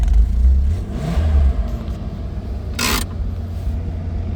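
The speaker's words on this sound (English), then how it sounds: "Car's idling on its own for now." A 1964 Corvair Monza with a 110 engine idles nearby with a steady low rumble. A brief hiss cuts in near the end, and no one talks.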